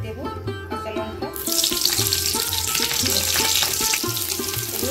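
Green chillies drop into hot oil in a kadai and burst into a loud, continuous sizzle that spreads into a bright crackling hiss after a brief quieter start, with a faint rhythmic stirring or scraping underneath.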